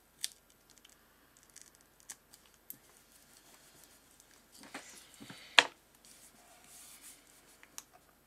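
Scissors snip through paper on a craft plate, a few quiet clicks and rustles that end in one sharp cut with brief rustling after it, close and soft with no talk.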